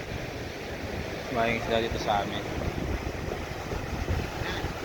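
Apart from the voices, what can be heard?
big sea waves with wind by fishing boats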